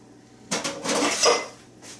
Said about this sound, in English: Toss that spoon in the sink.